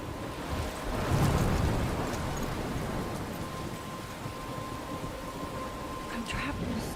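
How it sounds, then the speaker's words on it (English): A rainstorm with thunder in the video game Life Is Strange, a steady heavy roar of rain and wind with a low rumble swelling early on, continuous and enveloping throughout. "I'm trapped in a storm?"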